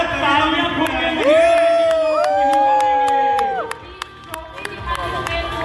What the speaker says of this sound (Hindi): जोरदार तालियां तो आ जाए, तालियां फूट के